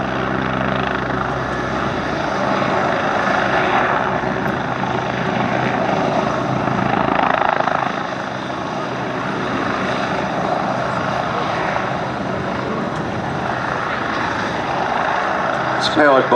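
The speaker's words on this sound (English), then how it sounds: "Very, very agile helicopter." A Westland Wasp helicopter with a Rolls-Royce Nimbus turboshaft flies a display at an air festival, its loud, steady rotor and turbine roar continuous throughout with only slight swells as it manoeuvres, and a voice talking over it.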